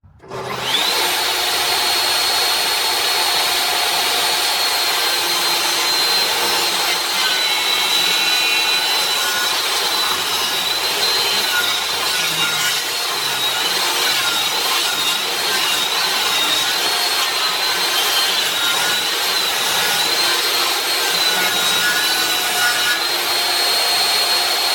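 Saw cutting mitered corners on the wooden frame of a farmhouse floating mantel: a loud, continuous high-pitched power-saw whine with a rough wood-cutting rasp runs steadily for about 24 seconds, with no talk.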